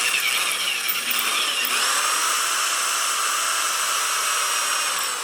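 A power drill with an added side handle bores into metal at a blacksmith's anvil and leg vise stand, a loud, steady, high-pitched grinding whine that holds for several seconds without pause or speech.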